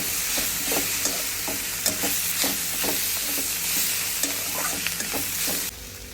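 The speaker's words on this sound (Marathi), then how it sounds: "हे टाकून व्यवस्थित मिक्स करून घ्यायचं" A vegetable dish being stirred in a hot pan with two spoonfuls of crushed peanuts added, loud close sizzling with regular spatula scrapes and knocks throughout, easing off abruptly just before the end, no speech.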